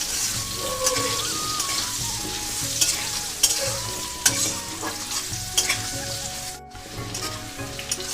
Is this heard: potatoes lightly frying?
yes